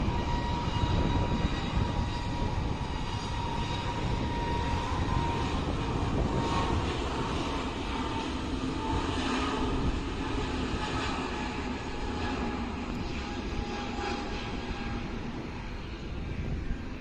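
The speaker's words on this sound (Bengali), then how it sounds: "ইন্ডিগো এয়ারলাইন্সের এয়ারবাস A320।" IndiGo Airlines Airbus A320 passing in flight above Uttara, Dhaka, a broad, steady jet roar heard from a distance, continuous throughout with no talk.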